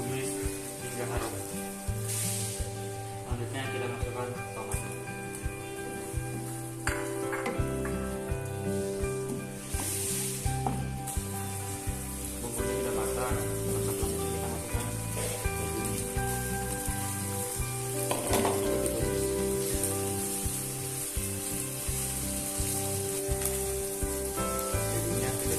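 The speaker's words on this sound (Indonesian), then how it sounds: "Tumis hingga harum." A broth mixture sautéing in a frying pan gives a soft, continuous sizzle with faint crackles. A steady tonal background runs beneath it.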